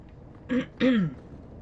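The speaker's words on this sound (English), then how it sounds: "Sorry to clear my throat there." A man clears his throat twice in quick succession, two short rough bursts close to the microphone during a Dragon Age II gaming session, with a quiet background otherwise.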